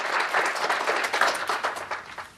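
Applause from an audience welcoming a speaker at a community health education seminar: a steady, dense patter of many hands clapping, fading slightly toward the end.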